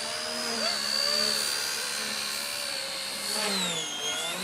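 An XK K123 AS350 RC helicopter whines steadily through a loop, its high-pitched motor and rotor pitch rising and falling, loud and close throughout.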